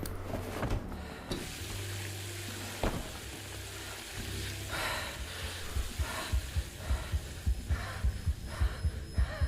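A deep, thudding heartbeat pulses steadily over a sizzling, humming background, the beats growing more distinct and regular in the second half.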